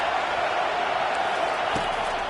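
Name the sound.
stadium crowd cheering in a college football video game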